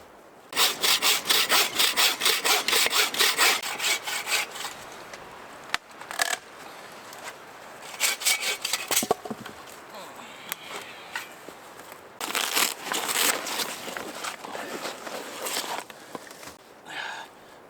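A hand saw cuts excess wood off an outdoor fort build in the woods in rapid rhythmic back-and-forth strokes, loud and close, in several bursts separated by short pauses.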